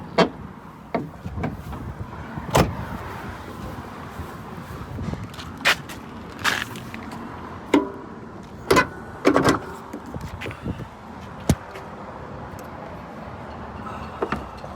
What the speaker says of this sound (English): Door's a little squeaky.